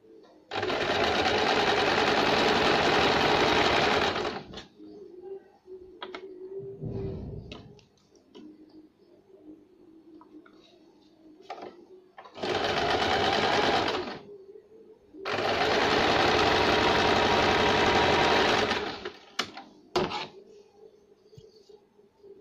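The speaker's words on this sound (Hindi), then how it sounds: "फोल्ड करके एक सिलाई लगाएंगे।" A sewing machine runs loud and close, stitching a folded fabric belt for a one-year-old's baby frock in three bursts of rapid stitching. Quieter pauses of fabric handling and small clicks separate the bursts.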